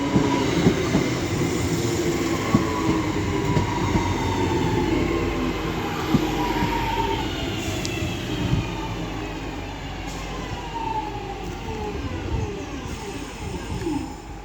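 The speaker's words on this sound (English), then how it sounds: "Now departing is 323238 with the 1424 Northern service to Crewe" Northern class 323 electric train 323238 departs Cheadle Hulme station on the West Coast Main Line, a continuous nearby rumble of wheels and motors with clicking rail joints and rising whine as it pulls away.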